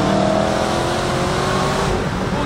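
A supercharged 810 hp Dodge Challenger roars under hard acceleration, a loud, dense engine howl heard from inside the car for a couple of seconds.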